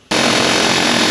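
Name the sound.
air hammer working on farm equipment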